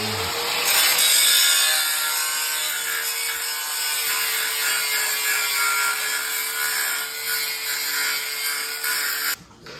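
A smashed car crash bar being cut off, a harsh steady grinding, sawing rasp that runs loud and almost continuously for nearly ten seconds before cutting out at the end.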